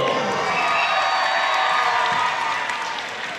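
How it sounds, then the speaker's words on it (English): A high school basketball crowd at a Los Alamitos Griffins home game against Marina roars and cheers as a player checks in, a loud sustained wash of voices and whoops that eases off slightly at the end. "The crowd's going to go absolutely nuts now with Joey Castro coming Checking in."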